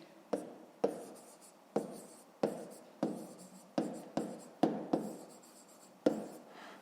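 A pen writes on paper during a 5th-grade math problem, giving about ten short scratching strokes in a steady, brisk rhythm. The sound is close and soft, with no one talking.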